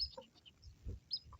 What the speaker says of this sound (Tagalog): Nagkakagulo yung mga ibon dun sa dulo